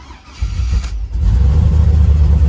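A cammed, LS-swapped Toyota Tacoma engine cranks briefly and fires up, settling straight into a loud, deep, lumpy idle heard up close with no talking.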